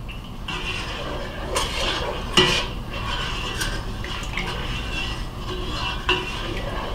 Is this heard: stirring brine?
yes